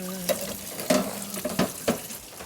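A kitchen tap runs while hands are washed during a cooking competition, a soft steady rush of water with occasional splashes and clunks, fairly quiet and close.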